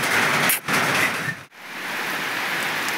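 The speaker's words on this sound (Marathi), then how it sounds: "बाहेर पाऊस चालू आहे, मोठाले मोठाले टिपकेत, पत्र्याचा पण आवाज येते" Heavy monsoon rain with big drops drums on a tin sheet roof, a loud, dense wash of noise that dips briefly twice and then continues steadily.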